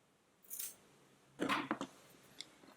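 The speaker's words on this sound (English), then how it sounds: "Let's go ahead and cut these loose ends" Scissors snip loose yarn ends from a crocheted daisy granny square, heard as a few quiet, close metallic snips and clicks in an otherwise silent room.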